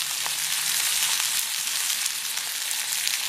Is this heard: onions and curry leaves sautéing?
yes